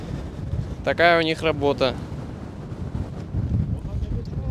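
Steady wind buffeting a microphone, rumbling low throughout, with a person speaking briefly over it near the start, outdoors during efforts to put out forest fires in Turkey.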